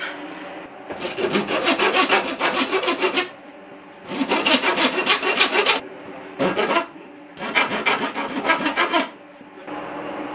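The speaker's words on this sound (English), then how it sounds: "I'll use this old washer as a guide to tell me where to file down to." An old metal washer is filed down by hand on a Moto Guzzi California III cafe racer build, giving steady rasping strokes in four long bursts with brief pauses.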